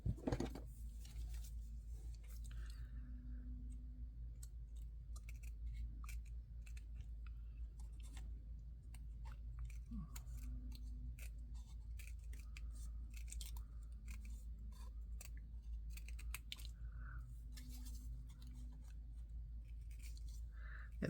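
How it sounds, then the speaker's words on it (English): Scissors snip steadily around a paper shape for a book-themed journal craft, giving many close, crisp cutting clicks in an irregular rhythm over a low steady hum, with no talking. "by the time you cut around a shape, it becomes so small that you just cut it off."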